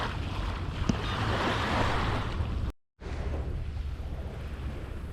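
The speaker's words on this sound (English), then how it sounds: "Rather rocky beach here." Waves wash steadily against a rocky island beach, a broad continuous surf rush mixed with wind buffeting the microphone, with a brief dropout partway through.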